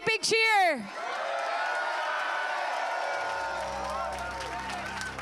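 At the World Oyster Opening Championships 2022, an audience breaks into steady cheering and applause, a broad roar of clapping and whoops that holds for several seconds after a brief announcer's voice at the start.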